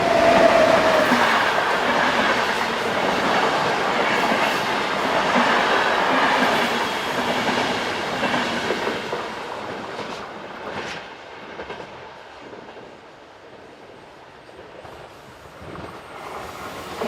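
A train travelling from Vienna towards Innsbruck rumbles past with clickety-clack and a brief high squeal early on, loud at first, then gradually fading into the distance.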